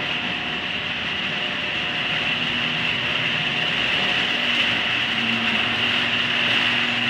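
Two Genie screw-drive garage door openers lowering a door, producing a steady, loud mechanical drone and whine from the motor and screw drive that runs continuously throughout with no talking.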